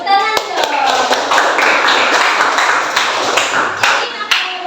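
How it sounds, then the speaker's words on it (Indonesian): Junior high classroom applause, a loud, sustained round of many hands clapping together, with a few sharper individual claps standing out and children's voices faintly underneath. "Luar biasa, tepuk tangan dong"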